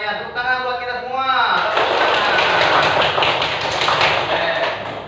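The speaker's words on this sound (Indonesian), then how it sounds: "Tepuk tangan buat kita semua." After a short spoken line, a class breaks into lively applause that fills the room, steady, dense clapping sustained for several seconds close by.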